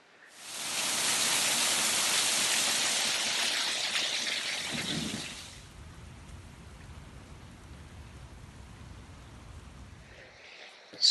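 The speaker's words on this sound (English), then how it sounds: "it started raining like a bitch like 10 seconds ago" Rain pouring down outdoors, a dense loud hiss for several seconds that then drops to a softer, lower patter, with no one talking.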